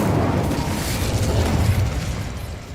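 Incendio fire spell in Hogwarts Legacy erupting in a sustained whooshing blast of flame, loud and close, with a dense low rumble and crackling texture that holds steady before easing off.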